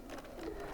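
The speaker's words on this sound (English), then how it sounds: "I'm just going to start sewing" A sewing machine runs steadily, stitching unpinned quilt patches for a Fifty-four Forty or Fight block, giving a brief continuous close-up whir with no talk.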